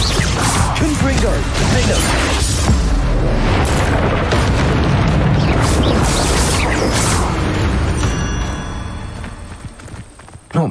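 The Confringo blasting spell from a video game explodes in a loud, booming burst with crashing debris and rumble that holds for several seconds, then fades, while a voice speaks over it.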